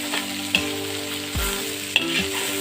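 Mixed vegetables including cabbage sizzle in a hot pan for chicken Manchurian as a spoon stirs and clinks against the metal, a close steady frying hiss with a couple of sharp scrapes and no voices.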